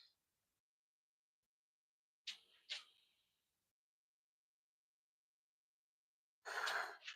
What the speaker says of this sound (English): my dog is like gasping for air over there